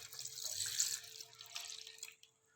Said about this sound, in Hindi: सारी चीज़ें छोटी छोटी करके जग में डाल दी हैं और अब डालेंगे दूध